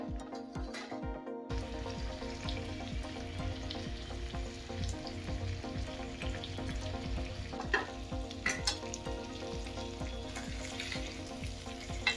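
Fish pieces sizzle in hot oil in a pan with a steady crackling hiss, interrupted by a few close scrapes and clinks as the pieces are turned.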